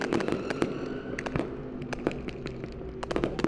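Fireworks burst in the sky over McLean County for a year-end 2024 celebration, a steady crackling roar punctuated by sharp booming reports at irregular intervals, loud and continuous with no talking.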